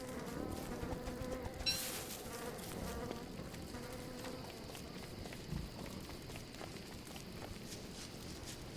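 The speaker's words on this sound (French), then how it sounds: "Écoutez les mouches." Flies buzzing steadily and close in a video game, a continuous insect drone with a brief louder flick near the start, no talk over it.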